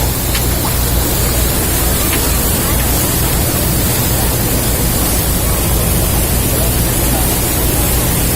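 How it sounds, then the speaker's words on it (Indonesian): Ocean waves wash beneath a ferry on the Bajoe–Kolaka crossing, a loud, constant broadband roar of surf and wind with no distinct breaks. "Lihat ombak."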